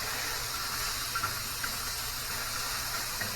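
Corn kernels sizzle in bacon grease on a hot griddle, a steady, close hiss with a few faint pops and no voices.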